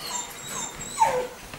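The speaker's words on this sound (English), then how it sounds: "There's Callan crying" A dog whimpers and cries in thin, high-pitched whines close by on a snowy outing, with one sharper yelping rise partway through.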